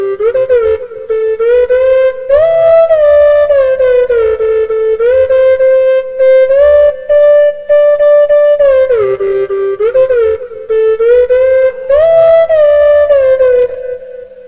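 A software ocarina in an FL Studio afrobeat track sings a smooth, breathy melody that glides between pitches, loud and upfront over a soft low beat pulsing underneath.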